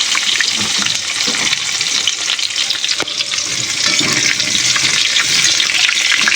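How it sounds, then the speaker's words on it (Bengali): Pieces of pointed gourd fry in hot oil in a kitchen pan, giving a loud, continuous sizzle with a brief stirring clatter midway and no talk over it. "পটলটা হালকা করে ভেজে নেবো"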